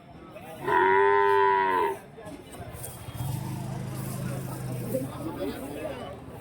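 A calf at the Karimangalam cattle market in Dharmapuri lets out one loud, drawn-out moo up close, followed by a lower, longer bellow amid background voices and market bustle.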